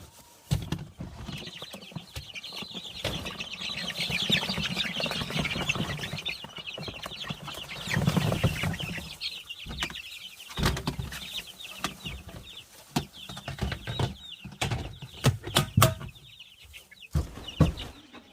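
Young chicks in a hoop-style pen peep and cluck continuously alongside other chickens, a busy, fairly close flock chatter with scattered louder calls and no talking.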